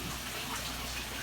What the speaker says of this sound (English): we'll fill the tank back up with tap water